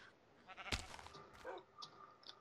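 Minecraft sheep bleating, a few faint synthetic baas spaced across a quiet scene, one sharper bleat standing out early.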